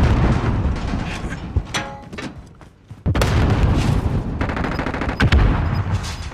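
Gunfire and a grenade blast in Call of Duty on Rebirth Island: bursts of rapid shots ring out, the sound thins for a moment, then an abrupt loud detonation is followed by more sharp gunfire.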